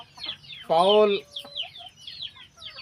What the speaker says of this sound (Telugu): చూసారా, పుంజులు ఉన్నాయి, అరుస్తున్నాయి, కోళ్ళు ఉన్నాయి